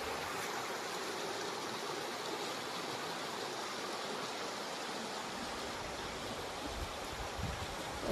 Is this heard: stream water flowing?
yes